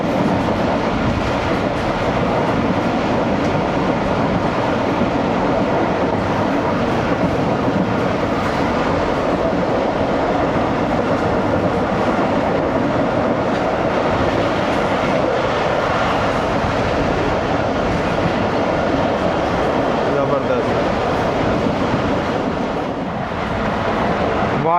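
Jaffar Express train of Pakistan Railways hauled by a GU20 locomotive at about 105 km/h, a steady loud roar of wheels and carriage with faint clickety-clack throughout, no voices.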